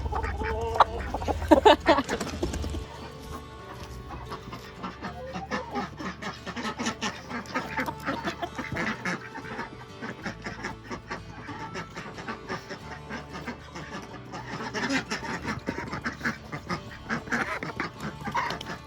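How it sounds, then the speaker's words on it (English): Several ducks quack repeatedly and loudly close by, their calls overlapping in busy bursts that continue throughout. "Those 4 ducks that came out are actually my newest addition to my mini homestead."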